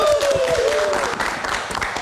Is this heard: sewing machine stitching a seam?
no